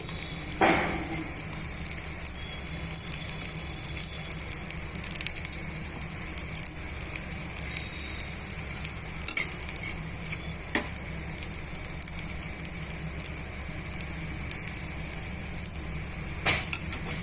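An egg dosa with oil spread on top cooks on a hot pan, a faint, steady sizzle with a few brief clinks from utensils, no talking.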